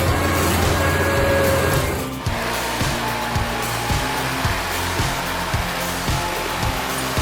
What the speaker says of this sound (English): the blades rotate at high speed, quickly crushing the wood into sawdust